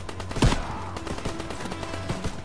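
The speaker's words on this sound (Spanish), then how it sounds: "yo le disparo" Gunfire in the World War II shooter Call of Duty: WWII, with a loud close shot followed by scattered bursts over dense battlefield noise and no talking.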